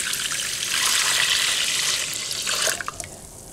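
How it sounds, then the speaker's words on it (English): Water pouring steadily into a Cosori pressure cooker pot over steel cut oats, a loud close hissing stream for almost three seconds that tapers into a few splashing drips as the pour stops. "Here comes the water."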